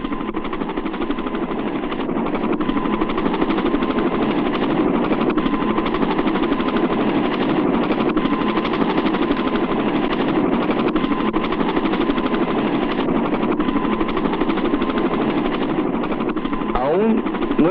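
Helicopters searching for a car along a highway in a 1966 Spanish-language film, a steady, loud rotor drone that holds without a break from start to end.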